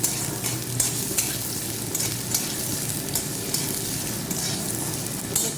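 Potatoes stir-fried in hot oil in a kadai for a cauliflower and curd dish, giving a steady, close sizzle with repeated scraping stirs throughout, no voices.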